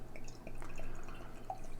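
Dark stout brewed with hazelnut, vanilla and coffee pours thick into proper glassware, a soft close gurgle with a few drips over about two seconds, no talking.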